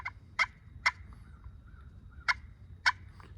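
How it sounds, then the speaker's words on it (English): Sharp clucks from a slate turkey call, four distinct pops spaced unevenly, close and clear over a low background rumble. "just making a quick little pop to make that little little clucking noise"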